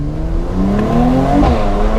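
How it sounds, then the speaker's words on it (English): A Mercedes C43 AMG with a biturbo V6 and a performance exhaust revs and pulls through the gears, a steady loud engine drone that climbs in pitch, heard close with no talking. "we've got a Biturbo V6, performance exhaust"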